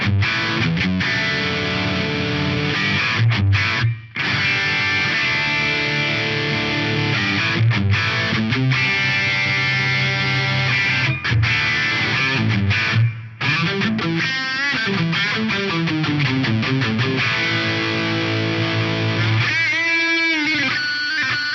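A distorted electric guitar with neck and bridge pickups in series plays through a BOSS RV-6 reverb pedal: chunky chords and riffs with a thick, saturated tone and a spacious echo, with brief pauses between phrases.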